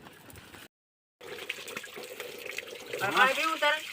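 Water splashes and pours while a cow is bathed on a farm in hot sun, short wet gushes that stop for a moment of silence and then return busier and louder near the end.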